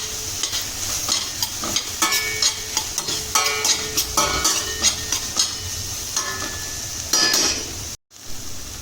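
Turmeric being stirred into a hot pan while cooking upma, with a spoon scraping and clinking against the pan in a steady rhythm over a constant sizzle, close up and without talking.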